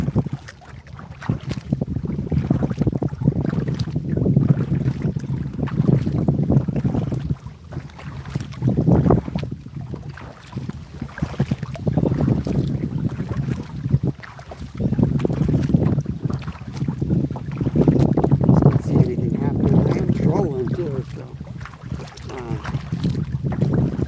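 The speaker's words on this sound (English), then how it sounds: "The wind's a little strong" Strong wind buffets the microphone on a lake during a kayak fishing outing, producing loud, steady low rumbling gusts that swell and ease over about twenty-four seconds, with faint water and boat movement underneath and no speech.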